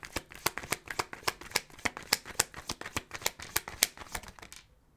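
Tarot cards shuffled by hand close up, a rapid, even run of crisp riffling flicks that stops abruptly.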